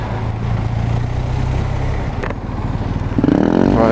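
A 2019 BMW R1250RS boxer-engine motorcycle accelerates hard nearby, its loud, throbbing engine note climbing steadily in pitch and volume with rumbling exhaust under the rise.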